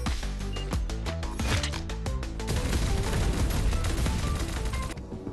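Rapid, dense gunfire from an overdrive weapon boost with infinite ammo in the Radiant Nexus shooter game, a continuous stream of shots over layered game music and effects, loud and close throughout before cutting off near the end.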